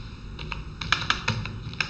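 Keys clatter on a computer keyboard during payroll data entry, a quick burst of close, crisp clicks with a few louder strikes, no voices.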